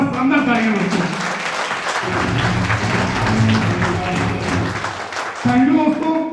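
Audience applause at an achievers' celebration event in Pipariya, a dense sustained clapping that fills the clip and mixes with a speaker's voice and music-like tones at the start and end.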